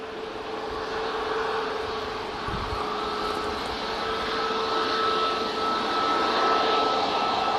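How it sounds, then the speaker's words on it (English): TUI Boeing 787-9 Dreamliner departing for Montego Bay, a sustained distant jet roar with a steady whining tone, gradually swelling in loudness as the aircraft climbs away. "So that's the 787-9 Dreamliner for TUI going off to Montego Bay."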